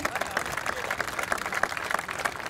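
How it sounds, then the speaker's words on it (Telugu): A crowd applauds during a garlanding at an Ambedkar Jayanti gathering, a fairly faint, uneven patter of many hands clapping heard from some distance. "చప్పట్లు."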